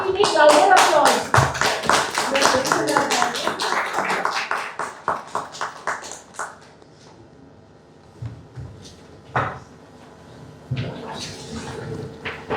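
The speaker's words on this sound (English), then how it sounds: "We need louder applause." Rhythmic group clapping at a book launch, loud and quick at first, then tapering off to scattered isolated claps with quiet room murmur and occasional talk in the gaps.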